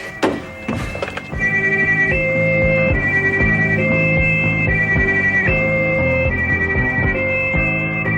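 An ambulance siren wails loudly in a steady repeating two-tone cycle after a few thumps at the start, continuing without talk.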